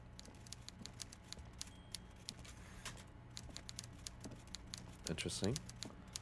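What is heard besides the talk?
typing heard in the video game Disco Elysium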